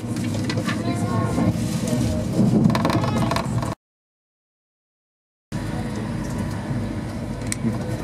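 A Virgin Pendolino class 390 train running between Liverpool and Stafford gives a steady interior rumble and rattle, close and fairly loud, cut off by a brief silent gap before the same running noise resumes.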